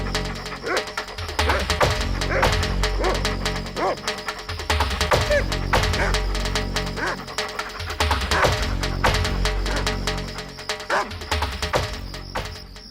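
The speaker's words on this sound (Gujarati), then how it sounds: "અવાજ સાંભળીને ગામના કૂતરાઓ ગોમતીની પાછળ પડી ગયા." Village dogs in an animated cartoon bark and yelp in repeated bursts while chasing, loud and busy under a soundtrack of effects, with a voice narrating over them.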